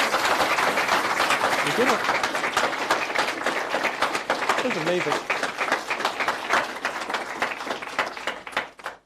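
Wedding guests applaud a newly married couple, a continuous crowd clapping with individual claps standing out, while a few voices call out over it.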